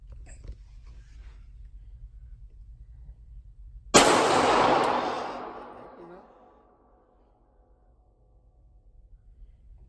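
A single loud, sharp firearm shot at an outdoor shooting range, with a long echoing decay trailing off into quiet after a stretch of background noise.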